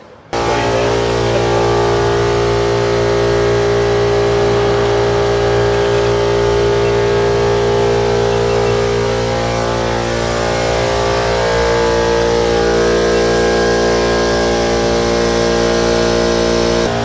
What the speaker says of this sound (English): That's what it looks like when your PTO is running